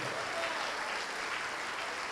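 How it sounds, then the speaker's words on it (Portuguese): A church congregation applauds during a worship service, a steady wash of clapping that fills the space throughout, fairly soft and distant with faint voices mixed in. "Vamos aplaudir mais ao nome de Jesus"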